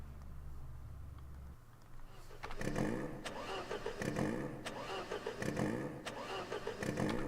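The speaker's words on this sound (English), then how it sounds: "as the entire grid now launches out of the start" Race cars launching from the grid at the start of a sim race on the Nordschleife: after a quiet opening, engines rise into repeated revving bursts and gear-shift pulses from several cars, fairly close and loud.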